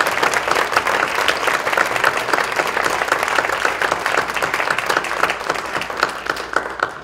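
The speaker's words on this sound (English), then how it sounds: "Can we first of all get a big round of applause?" A big round of applause from a live audience at a literary festival philanthropy panel, steady dense clapping sustained loudly for about seven seconds with no talk over it.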